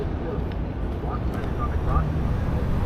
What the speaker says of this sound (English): Look how slow that plane's going.